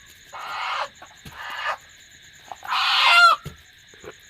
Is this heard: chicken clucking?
yes